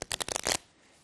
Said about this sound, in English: you can even shuffle